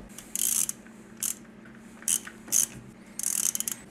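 A three-jaw lathe chuck is tightened onto copper alloy round stock, producing five short bursts of metallic ratcheting clicks separated by quiet pauses, close and moderately loud.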